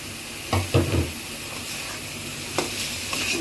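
Small diced potatoes sizzle steadily in hot oil spiced with garam masala, with a few stirring scrapes and clatters in a pan during rooftop cooking.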